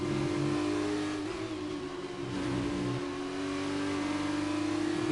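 F2 race car engines in a racing game at Silverstone, heard as a steady mid-pitched drone of several cars accelerating through Maggotts and Becketts, with pitch shifting as they pass.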